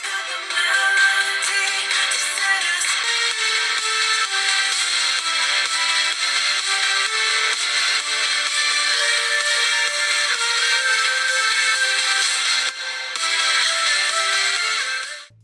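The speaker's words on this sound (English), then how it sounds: "This phone just has a single speaker at the bottom and this is how it sounds." Music plays steadily from the single bottom speaker of a Samsung A22 phone, bright and thin with little bass, continuous for about fifteen seconds before cutting off.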